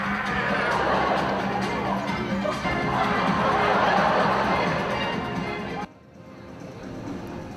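A theatre audience cheers and roars at a comic dance performance, a dense, sustained wash of crowd noise that holds steady for several seconds before cutting off abruptly, leaving a quieter background.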